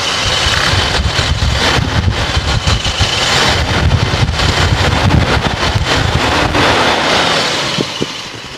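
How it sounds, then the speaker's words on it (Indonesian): A 1994 Toyota Kijang Grand Extra with the 1.5 engine is revved up from idle, its loud, steady roar filling the whole stretch with some wind buffeting, easing off slightly at the very end, no talking. "Coba kita sedikit geber ya, kita cek suaranya kalau udah kita geber ya."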